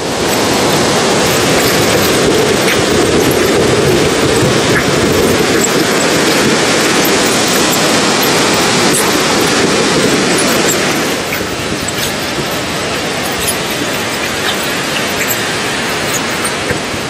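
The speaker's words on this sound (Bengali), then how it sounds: "ট্রেন আমাদের ছেড়ে বেরোলো কটক জংশন থেকে।" The 12278 Puri Howrah Shatabdi Express runs on tracks after leaving Cuttack Junction, giving a loud, continuous rolling rumble with a faint clatter, heard alone from inside the train.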